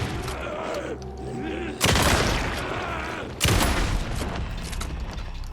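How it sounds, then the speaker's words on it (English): A pump shotgun blasts twice in Alan Wake 2, each loud, sharp boom followed by a decaying rumble, spaced a couple of seconds apart over quieter game ambience. "Good old pump shotgun."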